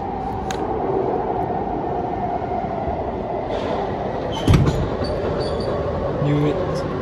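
An SMRT CRRC Sifang C151B train arrives at Novena station on Singapore's North South Line, a steady loud underground rumble with brief clanks and squeals, while a voice briefly speaks over it.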